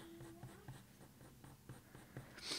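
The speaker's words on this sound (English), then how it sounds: "I'm just creating some fur lines with that pencil just there." Pencil drawing short fur strokes on paper, a quiet, close scratching in a steady rhythm of repeated strokes with no speech.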